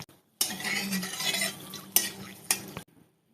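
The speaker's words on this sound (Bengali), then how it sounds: "সাথে ভেজে নেব শুকনো লঙ্কাগুলো" Dried red chillies frying in oil in a pan after pakoras: a crackling sizzle with metal utensil scrapes and a few sharp clinks against the pan, which stops abruptly at the end.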